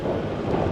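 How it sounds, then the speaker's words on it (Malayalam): Strong wind buffets a GoPro 9 microphone with Media Mod outdoors before rain, with lightning about, making a dense, loud, low rumbling roar that fills the whole moment. "നല്ല കാറ്റ് ഓൾറെഡി ഉണ്ട്."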